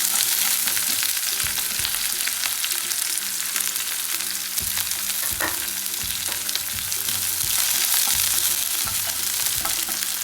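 Small onions and curry leaves sauté in a hot pan for a beetroot chutney, giving a steady, loud sizzle and crackle with occasional stirring scrapes throughout, no voices.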